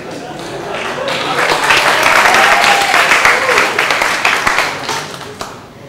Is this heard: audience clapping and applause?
yes